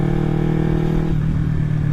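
A carbureted Kawasaki Ninja 250 motorcycle with an Akrapovic exhaust runs loud and close, a steady buzzing engine tone with a slight dip midway and no speech.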